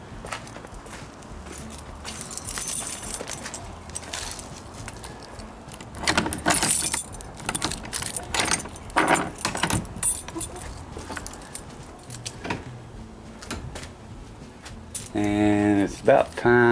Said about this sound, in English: Keys, too many keys.